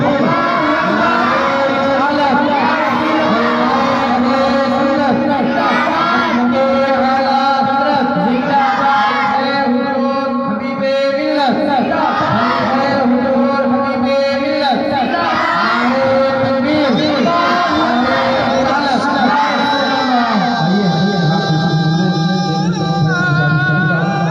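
A large crowd at a religious gathering chants Nara-e-Takbeer slogan responses, many voices merging into a loud, sustained, continuous roar throughout.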